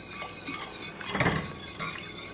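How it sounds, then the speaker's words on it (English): Cream cheese stirred into a tomato and cheese pie filling, a spoon scraping and clinking against the pot in quick close strokes with a brief louder rustle midway; no talking. "Just give them a nice stir."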